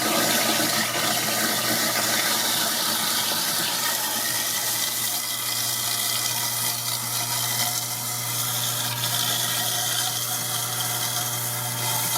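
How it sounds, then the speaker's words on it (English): Hot water pours steadily from a kitchen tap into a sink, a loud and constant hiss that runs unbroken from start to finish with no talking. "Just running the tap for a bit."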